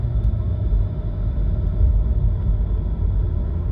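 A Lexus GS350 driving under light load, its engine and automatic transmission producing a loud, steady low rumble from inside the cabin, with no distinct shift break and no talk.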